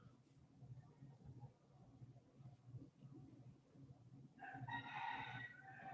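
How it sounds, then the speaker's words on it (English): Roosters crowing outdoors, heard faintly through the walls of a meditation hall in Los Angeles, with one clear crow near the end over a quiet room and soft murmured talk. "Please don't mind the roosters outside."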